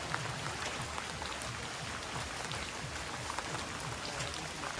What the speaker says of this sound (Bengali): বৃষ্টিটা দেখা যাইতেছে না মানে অল্প বৃষ্টি হইতেছে